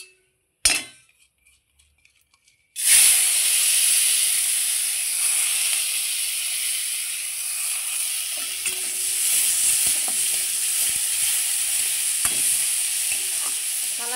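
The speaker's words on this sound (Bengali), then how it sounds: "এই গোবিন্দভোগ চালটা ভাজার জন্য দেখুন আমি তেলের মধ্যে একটু হলুদ গুঁড়ো দিয়ে দিলাম" Gobindobhog rice frying in oil with turmeric powder: after a near-silent start, a loud, steady sizzle takes over and continues with occasional light clinks of stirring.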